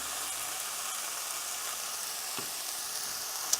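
Chorizo and potato hash fries in a pan with a steady, even sizzle and faint stirring scrapes, ending in one brief sharp clink.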